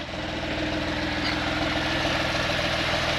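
A Porsche 911 Carrera 4S (997.2) flat-six engine idles steadily at close range, a low even rumble with a regular throb and no voices.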